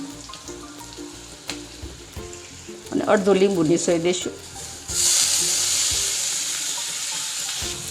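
Chillies fry on a gas stove for sambharo, a crackling sizzle that builds to a steady hiss in the second half, with someone speaking over the start.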